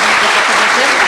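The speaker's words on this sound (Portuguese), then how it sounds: "uma salva de palmas para Dani Rosbach." Loud, dense applause fills a brief moment at a Brazilian talk show event, a steady wash of clapping from a close audience.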